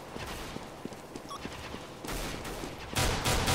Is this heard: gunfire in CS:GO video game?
yes